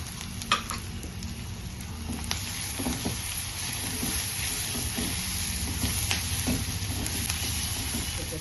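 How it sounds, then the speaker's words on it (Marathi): Raw green beans and carrots sizzle in a pan, with a dense, steady frying hiss and occasional light stirring clicks, heard close up with no talk. "आता त्याच्यामध्ये फरसबी गाजर हे पहिले परतवून घेऊया, कारण हे पूर्णपणे कच्चे आहेत।"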